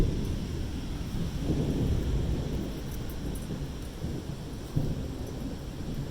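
Thunder from a Michigan electrical storm rumbles low and long, rolling continuously with a brief louder crack near the end, under light rain and wind.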